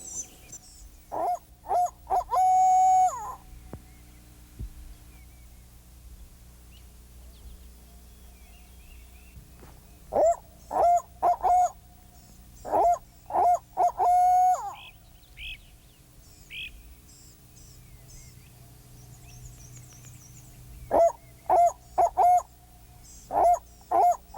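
A voice imitates a barred owl's hooting as a turkey locator call on an early spring morning hunt, delivered as loud, close bursts of rolling hoots in several separated groups.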